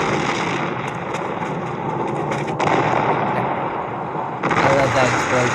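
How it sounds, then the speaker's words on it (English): A large stunt explosion during a movie truck chase sequence rumbles as a sustained roar with bursts and a sharp new blast near the end, loud and close throughout. "I love that explosion."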